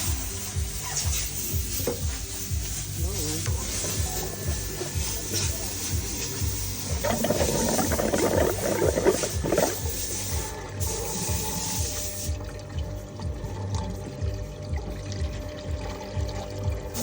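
Water is pumped through a car's cooling system to flush out the old antifreeze, a continuous gurgling pour with a louder, splashier burst in the middle before it eases back.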